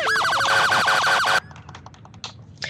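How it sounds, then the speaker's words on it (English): A loud electronic ambulance siren in a Roblox game wails in rapid rising-and-falling sweeps, then cuts off abruptly, leaving faint scattered clicks and taps. "Here is the sirens."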